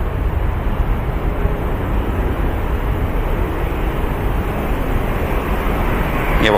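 A Ryanair airliner sits at the start of its takeoff roll on the runway at Manchester Airport, its jet engines producing a loud, steady, broadband roar that holds constant for the whole stretch.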